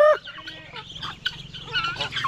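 Farmyard chickens and turkeys cluck, chirp and squawk close by, a busy overlapping mix of short fowl calls with no talking.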